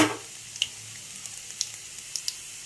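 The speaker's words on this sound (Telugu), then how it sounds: "కట్ చేసి పెట్టుకున్న వెల్లుల్లిని యాడ్ చేసుకోవాలి లైట్ బ్రౌన్ కలర్ వచ్చేంత వరకు వెల్లుల్లిని వేగించాలి" Chopped garlic frying in hot oil for a stuffed brinjal curry gives a faint, steady sizzle. A few sharp pops and crackles break through near the start and toward the end. No one speaks.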